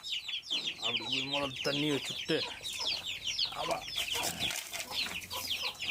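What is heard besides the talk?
chickens clucking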